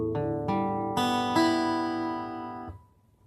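Six guitar strings plucked one after another in standard tuning, each note ringing on and stacking into a sustained chord before fading out, played alone with no talking.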